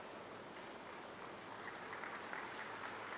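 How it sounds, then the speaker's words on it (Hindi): Audience at a speech in Rishikesh claps steadily, a dense, even wash of applause held at low level throughout, with no voices over it. "पता नहीं कि शिष्टाचारवश आप तालियां बजा रहे हैं"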